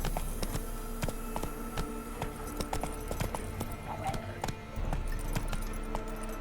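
Roach the horse's hooves clip-clopping at a steady walking pace in The Witcher 3, crisp repeated hoof strikes close by over a low ambient bed.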